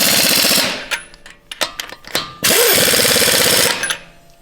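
A pneumatic impact wrench works on a Ford F-150 pickup truck's spiked lug nuts during a suspension upgrade. It gives two loud, rapid hammering bursts with short clanks and knocks between them. No one speaks.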